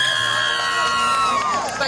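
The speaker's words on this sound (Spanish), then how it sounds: "Unos aplausos bien fuertes," Guests at a quinceañera cheer and shout together in a loud, lively burst, with high whoops and whistle-like cries rising over the crowd noise for under two seconds.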